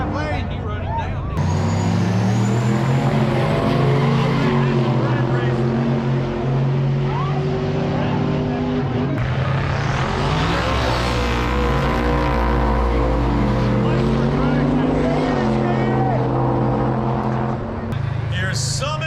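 Drag racing cars roar off the line and down the strip at a C10 Nationals event, loud sustained engine noise rising and falling, with a voice talking over the crowd.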